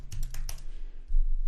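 Quick taps on a computer keyboard clatter close by in a short burst while a word is typed, then stop, leaving a low hum.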